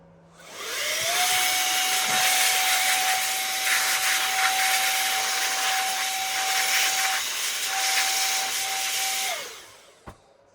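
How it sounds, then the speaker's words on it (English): An air duster blasts compressed air in a long, steady, loud hiss with a faint whistling tone while clearing dust from an Atari 2600 console. The spray runs unbroken for about eight seconds, then cuts off, followed by a small click. "I'm going to first go in with an air duster to clear away some of the dust"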